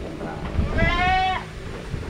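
A dairy goat on an Indonesian goat milk farm gives one clear, wavering bleat lasting about half a second, close and loud over a low background murmur.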